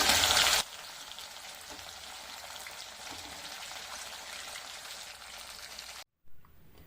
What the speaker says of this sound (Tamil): ப்ரான்ஸ் ஒரு சைடு ஃப்ரை ஆகிடுச்சு நம்ம திருப்பி விட்டுடலாம்